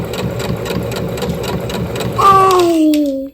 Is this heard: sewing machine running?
yes